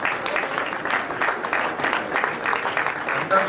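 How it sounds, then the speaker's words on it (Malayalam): An audience at a Rotary District seminar applauds, a dense, sustained patter of many hands clapping that swells slightly toward the end, with faint voices beneath. "നല്ല കയ്യടി കൊടുക്കണം കേട്ടോ."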